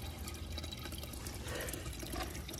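Water rushes steadily out through a freshly cleared drain after a bad blockage, a continuous gurgling flow at moderate distance with no voices.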